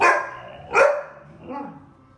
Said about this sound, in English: Just like my girlfriend's dog here.